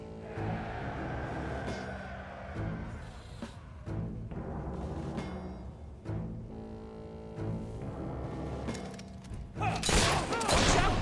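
Gunfire from the Fable video game crackles in repeated bursts and thumps over a loud, busy fight, with several heavy shots and a sharp blast at the end.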